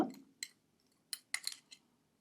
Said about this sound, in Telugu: ఈ యొక్క పౌడర్లు అన్నీ నూనెలో కలిసిపోయేటట్టుగా మనం ఇట్లా కలుపుకోవాలి